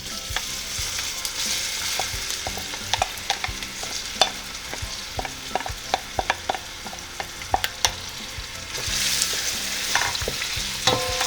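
Onions sizzle and fry steadily in hot light vegetable oil for chicken biryani, a continuous close hiss broken by frequent sharp clicks and scrapes of stirring, alone without talk.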